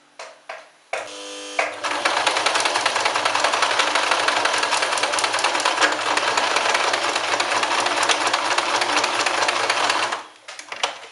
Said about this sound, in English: And then I'll sew these together here.